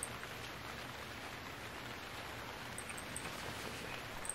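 Rain in the Stranded Deep survival video game, a faint, even hiss of steady rainfall with no distinct drops or voices.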